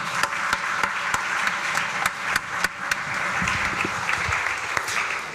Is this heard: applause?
yes